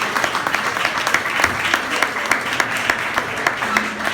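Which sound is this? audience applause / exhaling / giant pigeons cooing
audience applause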